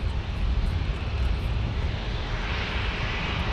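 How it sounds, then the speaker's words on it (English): Japan Airlines Boeing 787 departing San Diego Airport, a steady broadband jet engine roar heard from a distance, continuous and moderately loud, with no talking. "Japan Airlines in 30 seconds."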